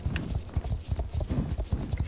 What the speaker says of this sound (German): die Herde kommt so langsam in Bewegung